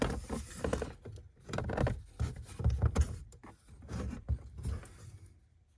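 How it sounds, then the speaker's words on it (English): An interior trim panel in a BMW X1 pulled down and toward the body during a cabin air filter replacement, a series of close plastic rubs, creaks and soft knocks that fade toward the end. "now, you just have to pull this panel down and pull it towards you a little bit"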